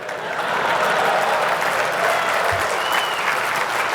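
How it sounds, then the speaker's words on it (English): Applause from an awards show audience for video games, dense and sustained clapping from a large crowd that holds steady throughout, fairly loud and close, with no talking over it. "You can applaud for that."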